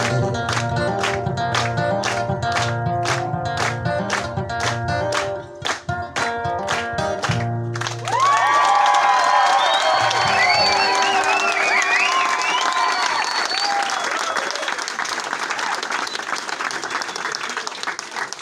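A live acoustic americana song ends on its last guitar strums and sung notes, then an audience breaks into loud applause with cheers and whistles that continues to the end.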